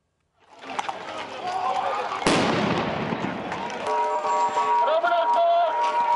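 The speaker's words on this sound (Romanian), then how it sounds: "Petarde și gaze lacrimogene înainte de meciul lui Dinamo." Firecrackers bang outside a football stadium before a Dinamo vs UTA match, amid crowd unrest: a sharp broadband blast rings out over steady crowd noise and voices, followed by continued chatter and distant tones.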